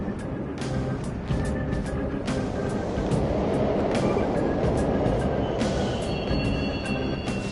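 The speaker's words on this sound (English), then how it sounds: "The trains are totally running!" Subway trains running in the underground station of the Persona 5 Royal video game, a steady rumbling drone with faint high squeals and clanks, continuous throughout.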